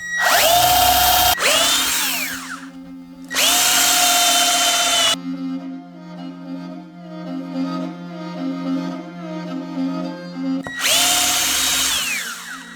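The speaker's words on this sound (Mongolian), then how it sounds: "Тэгээд утсан хөрөөгөр ингэж хөрөөднөө." A wire saw cuts a coin-pattern opening into the wooden soundboard of a handmade morin khuur. Three loud, sustained buzzing bursts are separated by a quieter steady hum.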